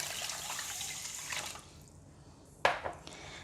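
Water runs into a wash basin holding rice with a rushing hiss, stops, then a sharp splash and clatter follow.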